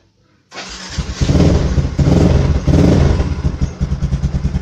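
A motorcycle engine starts after a brief quiet moment and then runs close and loud, its rough mechanical rumble pulsing unevenly as it idles.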